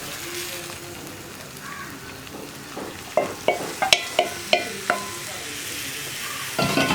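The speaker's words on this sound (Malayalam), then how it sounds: "ഇനി നമുക്ക് മാരിനേറ്റ് ചെയ്ത് വെച്ചിരിക്കുന്ന ചിക്കൻ ചേർത്ത് കൊടുക്കാം." Marinated chicken goes into a hot pan for a chicken roast and is stirred, giving a steady frying sizzle with a run of sharp spatula knocks and scrapes against the pan partway through.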